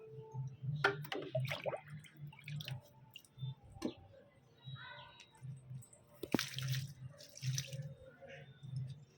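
A homemade herbal decoction is poured onto plants, splashing and trickling in uneven bursts, close by, with soft drips and a low steady hum underneath.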